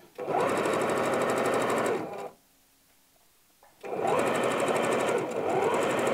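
A sewing machine stitching around the edge of a ruffle for a shirt runs in a fast steady whir, stops briefly for about a second and a half, then resumes stitching, close and clear.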